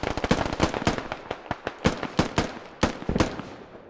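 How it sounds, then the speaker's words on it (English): Sharp gunshots crack in SquadOps as a force fires on a compound: a rapid, irregular volley of loud, close reports, some doubled, with brief gaps between bursts. "the close force has begun to shoot at the compound"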